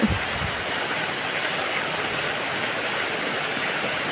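Heavy rain pours in a dense, even roar that holds steady for about four seconds, close and loud, with no voices.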